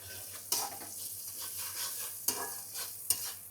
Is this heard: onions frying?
yes